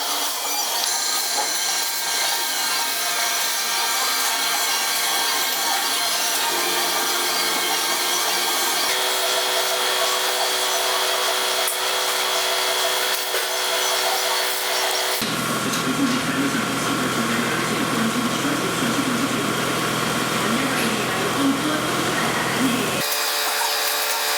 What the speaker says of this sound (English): So I'm going to drill a hole, approximately 1/2 inch or a little bit over 1/2 inch.